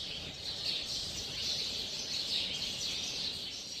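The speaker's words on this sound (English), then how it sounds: "How I love the sound of the bird fellows singing in the forests of my home country." Birds in a Zanzibar forest chirp and sing in a dense, faint chorus with no clear pauses, over quiet background hiss.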